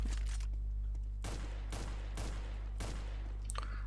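Rapid automatic gunfire in the video game CS:GO, fired by an aim bot, comes in several bursts about half a second apart over a steady electrical hum, with no talking.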